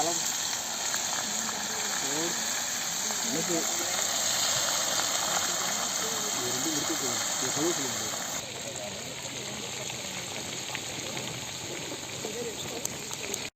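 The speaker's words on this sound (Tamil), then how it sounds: "முழு ஜிலேபி அப்படியே எண்ணெய் சட்டிக்குள்ள இறக்குறோம்" A whole tilapia frying in a pan of hot oil at an outdoor village cooking spot, a loud, steady sizzle and bubbling hiss that eases slightly partway through, with people talking over it.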